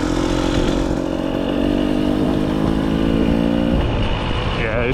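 A KTM XC dirt bike engine runs steadily at a fast idle on a night ride, a loud close buzzing drone with a slight pitch rise near the end and no talk.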